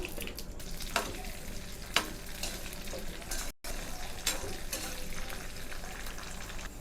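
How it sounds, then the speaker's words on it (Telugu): Mustard seeds, cumin and other ingredients sizzle and crackle in hot oil while being stirred for a Navaratri prasadam dish, a continuous frying hiss with a few louder pops and scrapes and a brief drop-out midway. "ఆవాలు జీలకర్ర వేసేసుకున్న తర్వాత ఇప్పుడు ఇందా చెప్పిన పదార్థాలన్నీ ఇందులో వేసేస్తున్నాను"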